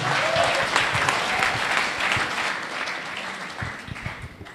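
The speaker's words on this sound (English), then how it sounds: "Make some noise if Dawson Gant brought you here." An audience at a live speech claps and cheers loudly and steadily. The crowd noise tapers slightly toward the end.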